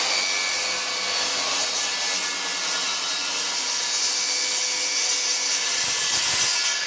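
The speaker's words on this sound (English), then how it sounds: "So with it all marked out, it is time to cut it down to size." Scrap plywood is hand-sawn to size in steady, continuous rasping strokes, loud and close throughout, with no voices.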